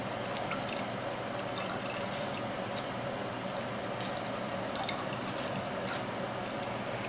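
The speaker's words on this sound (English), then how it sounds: "we're going to take and press the vegetables to extract the liquid from the vegetables and the flavor" Liquid drips and trickles faintly and steadily as braised vegetables from a red-wine beef shank dish are pressed, a soft continuous wet patter with no talking.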